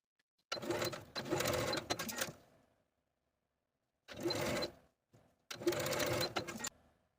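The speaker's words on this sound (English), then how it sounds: "Sew from the top of the neckband to the bottom folded edge with that 3/8 inch seam allowance." A domestic sewing machine stitches a neckband seam in three separate runs, each a loud, close, fast whirring buzz lasting one to two seconds, with silent pauses between them.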